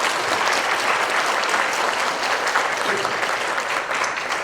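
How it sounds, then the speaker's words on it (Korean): A church congregation at a Korean Methodist pastors' retreat closing service claps in steady, dense applause that fills the room evenly from start to finish, with no voices over it. "여러분 격려의 박수"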